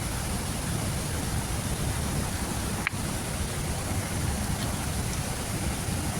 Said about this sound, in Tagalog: mas umuulan eh malakas yung ulan